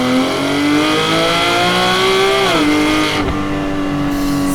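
A Porsche GT4 with a PDK gearbox launches hard under launch control, its engine note climbing loudly and steadily before dropping briefly at a quick upshift, then pulling again, close and alone.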